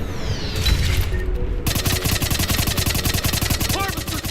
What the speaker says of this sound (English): Harvester's firing on the Turians!